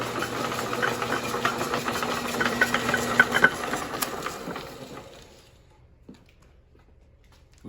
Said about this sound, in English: We're going to shut the machine off.